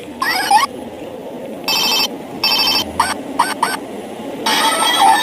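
A Hello Kitty electronic toy phone rings in short bursts of bright, warbling tones, separated by brief pauses, loud and close, with no voices.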